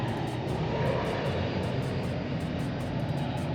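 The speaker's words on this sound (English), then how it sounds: "There are planes flying out all the time." A fixed-wing airplane passes overhead near Corfu, Greece, a steady broad engine roar holding at even loudness for the full few seconds with no voices over it.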